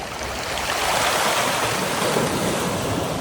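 Sea waves surging onto Dover Beach, a continuous loud roar of breaking surf with strong wind buffeting the microphone, no voices.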